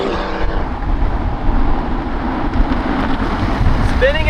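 A Toyota Supra fitted with a drag pack spinning its tires, heard as a loud, continuous roar of engine and tire noise at close range with heavy wind buffeting throughout.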